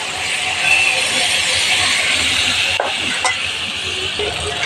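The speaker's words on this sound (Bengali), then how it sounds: "এবার আমি ভাজা মাছগুলো ছেড়ে দেবো এখানে, দিয়ে আমি একটু ঝোল দিয়ে দিই" Fried fish stirred into a pan of gravy, with a constant close sizzle, spatula scrapes and a couple of sharp clanks against the pan.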